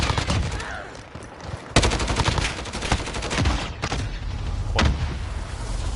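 Video game gunfire rings out in several sharp, loud reports with a thumping, rumbling game soundscape between them.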